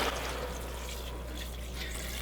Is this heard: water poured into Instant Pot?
yes